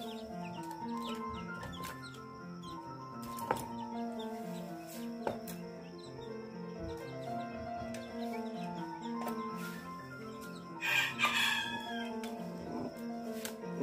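Green junglefowl chickens crow and cluck in a busy coop, with steady layered calls throughout and a sharper burst of louder activity near the end.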